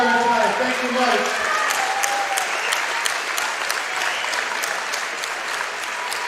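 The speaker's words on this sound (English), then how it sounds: "Let's first give a round of applause to our alumni, Mike Robertson, for coming out of retirement tonight." Audience applause at a boxing event, sustained and dense clapping from a large crowd filling the whole stretch, with a few voices and cheers mixed in early on.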